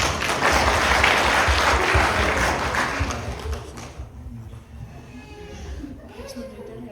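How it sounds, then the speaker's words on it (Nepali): A church audience at a Valentine's program breaks into loud, dense applause for about three seconds, then fades out into quieter murmuring and a few scattered sounds. "ताली बजाइदिनु यसमा"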